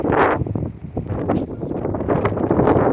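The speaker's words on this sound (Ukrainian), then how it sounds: "Сонечко, хмарно і холодний вітер." Gusty cold wind roars steadily against the microphone in Odesa's Lanzheron area, a loud rushing buffet with brief lulls and surges throughout.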